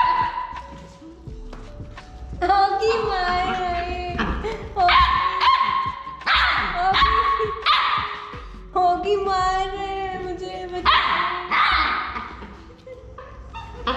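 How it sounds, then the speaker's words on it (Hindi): A dog barks, yelps and whimpers repeatedly in bursts during indoor play, with occasional speech in the background. "ये भौंकेगा मेरे ऊपर"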